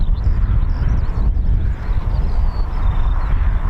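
Eurofighter Typhoon FGR4 jet at RAF Coningsby, a steady broadband roar heard from a distance, with wind buffeting the microphone throughout.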